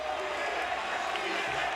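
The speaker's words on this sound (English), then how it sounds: "Listen to this crowd." A wrestling arena crowd roars in a steady, dense wash of cheering right after a high-risk move off the top of a structure, with a commentator's voice riding over the noise throughout.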